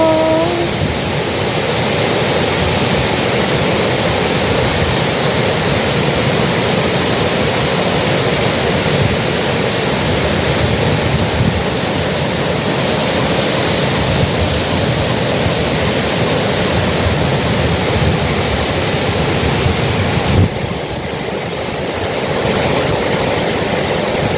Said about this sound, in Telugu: గల్ల గల్ల జల్ల జల్ల ప్రవాహము